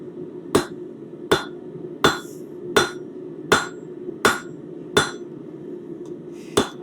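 Hot metal being hammered on an anvil to forge the pyramidal tip of a leaf, with eight sharp ringing blows in a steady rhythm, loud and close, each strike ringing briefly over a low background hum.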